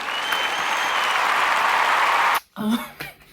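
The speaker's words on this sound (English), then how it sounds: "Insert a hand clap" An inserted applause sound effect plays as a loud, even crowd-clapping wash that cuts off abruptly, after which a voice starts talking.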